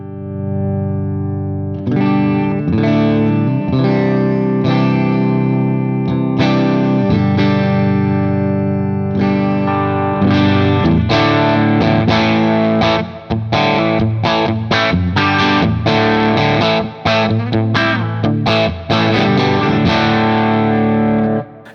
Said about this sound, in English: As you can hear, the amp starts to distort a little bit.